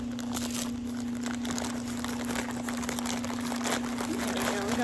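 Someone cuts open a shipping package, with crinkling plastic and rustling wrap in short bursts under a steady background hum, up close.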